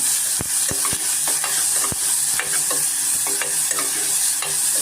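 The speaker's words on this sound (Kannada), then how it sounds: "ಸ್ವಲ್ಪ ಈರುಳ್ಳಿ ಸ್ವಲ್ಪ ನಾವು ಫ್ರೈ ಮಾಡ್ಕೊಳ್ಳೋಣ" Onion frying for a banana stem kootu sizzles loudly in a pan, broken by repeated sharp scrapes and taps of a spoon stirring at an irregular pace. No voices are heard.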